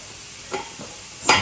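Food fries in a pot with spices, soft sizzling underneath a few scraping stirs and one sharper clatter near the end, close and fairly quiet, with no talking.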